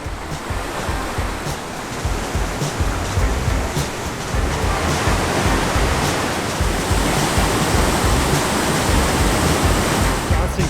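The waterfall at Johnston Canyon roars as a dense, continuous rush of broadband water noise, loud and steady throughout with no pauses.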